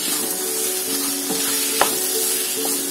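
Potatoes and chana dal sautéing with softened onion in a pan, a steady close sizzle broken by a few clinks and scrapes of a stirring spoon, no voices.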